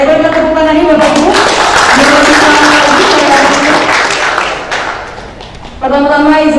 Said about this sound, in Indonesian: Saya berikan tepuk tangan ini Bapak Ibu.